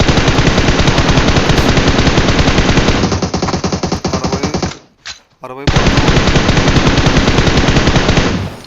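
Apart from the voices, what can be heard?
gunfire in the video game PUBG Mobile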